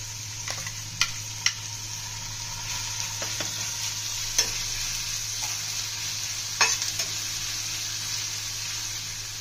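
Garlic paste fries with softened onions in a pan, a continuous crackling sizzle with occasional sharp spatula scrapes and knocks over a low steady hum.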